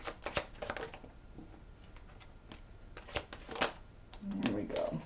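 Tarot cards are shuffled for a reading, giving a run of sharp riffling snaps and soft slides in uneven bursts, close and fairly quiet, while a voice talks intermittently.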